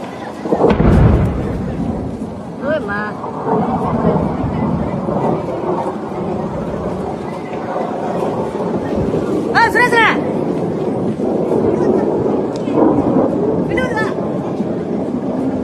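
An F-15 fighter jet going down over Kuwait and exploding. A heavy blast booms early, then a sustained roaring rumble follows with scattered crackling bursts, while people's voices are heard over it.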